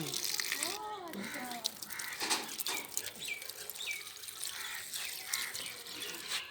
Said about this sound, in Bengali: আমার ডালিয়া গাছে জল দেওয়া হচ্ছে, তারপরে আমি অন্যান্য গাছে জল দিচ্ছি